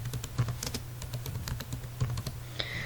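Quick, irregular clicking of computer keyboard keys as a line of MATLAB code is typed, close and fairly quiet, with brief pauses between bursts of keystrokes.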